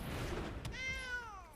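A cat meows once from the Sanctuary Cat card in the digital card game MTG Arena, a short rising-and-falling cry over soft game background sound.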